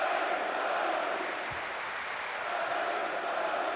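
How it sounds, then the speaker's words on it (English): Arena crowd at a Eurobasket 2015 Croatia v North Macedonia basketball game chanting Dario Šarić's name, a steady, dense roar of massed voices filling the hall with no clear break. "And the crowd in full song now"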